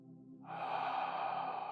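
After a throat lock, a single steady exhalation is released, a soft breathy rush of air that starts abruptly and continues evenly, close and alone with no talk.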